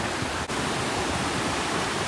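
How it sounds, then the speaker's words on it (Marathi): River running in full flood near a village temple, a steady broadband rushing of water, moderately loud and continuous, with one brief dip in the roar. "त्यांची नदी बघा किती वाहून चालली आहे"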